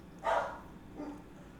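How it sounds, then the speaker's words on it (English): Pet dogs barking indoors, one quiet bark followed by a fainter second one, heard from a short distance. "Forgive my dogs. I don't know why they're barking like crazy all of a sudden."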